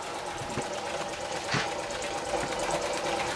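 A small Doll & Co No. 56 1/2 model steam engine runs steadily, a fast, busy mechanical chuffing and clatter with a slightly wobbling flywheel, close and continuous with no talking.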